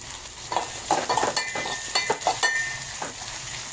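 Sliced brinjal hits a hot pan and sizzles steadily while a spoon scrapes and stirs it in repeated bursts, close and fairly loud.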